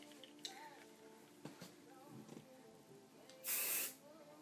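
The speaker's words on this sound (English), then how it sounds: "I'm going to spray this all through my hair" A short, sharp hiss of an aerosol hair shaping spray being sprayed through hair bursts out once near the end of a quiet stretch with faint handling noises.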